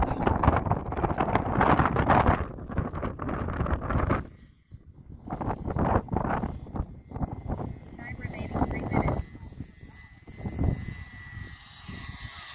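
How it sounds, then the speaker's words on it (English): Strong gusty wind buffeting the microphone at an RC flying field, where a Dynam B-26 Marauder twin warbird plane flies, loud roaring bursts easing briefly before an engine whine rises, with people talking throughout. "But that wind is tearing you up."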